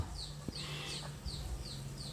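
Soft clucks from a young Thai chicken, a pullet just coming into its plumage, sound at close range in short repeated bursts. Faint bird chirps and a steady low hum sit underneath, and no voices are heard.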